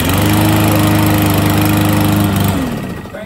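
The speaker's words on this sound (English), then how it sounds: "I can start this lawnmower over and over." A Craftsman electric-start self-propelled lawn mower runs loudly and close, its small engine droning steadily before winding down near the end.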